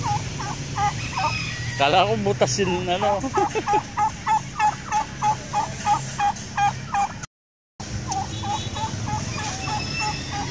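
Turkeys gobble repeatedly at a Philippine livestock market, a steady run of bubbling calls close by with market noise around them; someone talks briefly over the birds.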